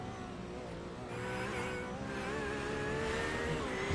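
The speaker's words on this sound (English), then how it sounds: "Darren Colby, he's starting to show some paces tonight in his GT3 Porsche 911 machine" Onboard engine of a Porsche 911 GT3 race car in a sim racing game at Hockenheimring, a loud continuous high-revving howl with shifting pitch and gear changes, no talking.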